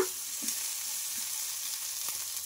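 Green chilies and mint sautéing in oil in a kadai for chutney: a steady, close sizzle with faint stirring clinks, no talking.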